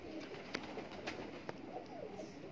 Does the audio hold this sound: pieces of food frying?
no